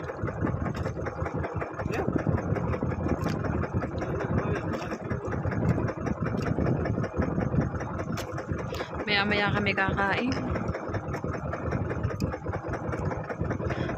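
A boat engine idles with a steady low rumble while people talk over it.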